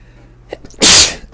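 One sharp, close sneeze from a person indoors, preceded by a brief inhaled catch of breath, loud and isolated against a quiet room hum.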